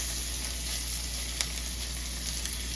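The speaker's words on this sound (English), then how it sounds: "pan saute of this salmon" Salmon sizzles in a sauté pan, a steady, soft hiss of frying with faint crackles, heard alone without talk.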